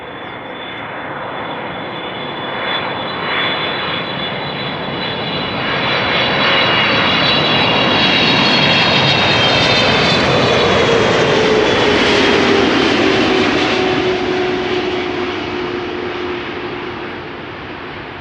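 KLM jet PH-BVD, a former SkyTeam-livery airliner at Amsterdam Schiphol, roars past with a broad engine rumble that swells from moderate to loud, peaks, then slowly fades, a falling whine tracing its movement; no voices.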